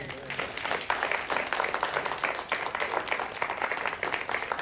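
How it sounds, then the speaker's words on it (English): A church congregation gives a warm round of applause during a sermon, many hands clapping in a dense, even wash that stays at a steady level throughout. "I think we should just give a little hand clap right there."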